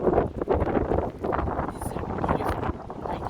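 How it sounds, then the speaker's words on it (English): Strong gusting wind off the Atlantic Ocean in Halifax in February buffets the microphone with a continuous rough roar, and a voice is faintly audible beneath it. "It's really windy."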